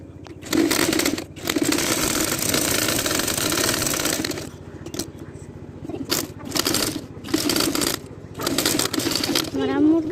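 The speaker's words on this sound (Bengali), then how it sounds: "এই যে আমার আম্মু সেলাই করছে।" A home sewing machine runs as a mother stitches, giving a steady rapid mechanical clatter in long bursts with brief pauses between runs, close and fairly loud.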